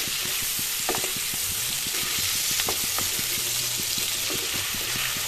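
Fish pieces frying in oil with ginger, garlic and chili paste for a curry, a steady near sizzle punctuated by regular spatula taps and scrapes as the pieces are turned.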